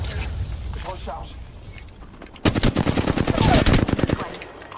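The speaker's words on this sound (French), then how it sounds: "Je tire dessus." Rapid automatic gunfire from the battle-royale game Apex Legends breaks out halfway through as a loud, dense burst of shots, following a quieter stretch of game ambience. A player talks over the action.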